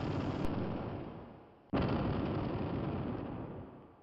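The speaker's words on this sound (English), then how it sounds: "With explosions booming in the distance" Heavy explosions rumble in the distance, a continuous broadband roar with a sharp new blast landing midway, loud and without speech.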